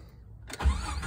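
A 1998 Jeep Wrangler engine cranks and catches after a brief quiet moment, settling into a rough rumble.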